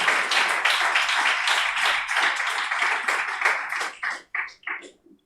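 A church congregation applauds steadily, a dense wash of clapping that thins into a few scattered claps and then dies out.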